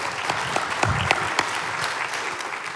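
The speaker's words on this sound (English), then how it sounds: "Big round of applause." Finalists are greeted with a big round of applause from an audience, a continuous wash of clapping with a few louder individual claps standing out, carrying through the whole stretch without talk.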